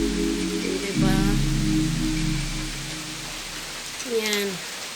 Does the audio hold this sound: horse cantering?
no